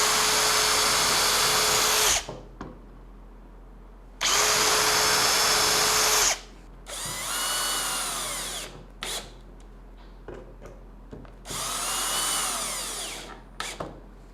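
A power drill bores pilot holes into a compact Rivertools router table during assembly, running in four steady bursts of about two seconds each, separated by short pauses and light handling noises.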